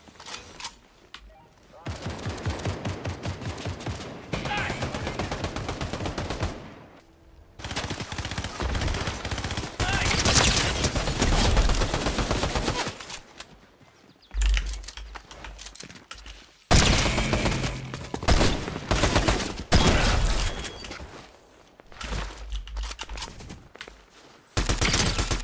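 Rapid, sustained automatic gunfire from a gun in a shooter video game rattles loud and close, coming in long bursts broken by short pauses.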